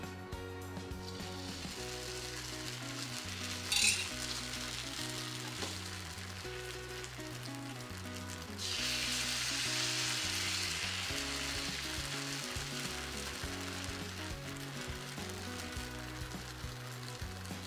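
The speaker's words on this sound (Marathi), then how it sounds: "हे जे पीठ आहे हे व्यवस्थित तव्याच्या बाजूने सोडायला सुरुवात करायची" Batter poured onto an oiled griddle sizzles steadily, the frying growing louder and denser midway as more batter spreads across the hot surface, with music playing underneath.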